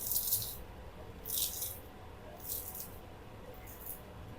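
Crispy fried aloo palak pakoras rattling and crunching as they are handled, a few short bright bursts spread over a few seconds, close and fairly quiet over a faint background hiss.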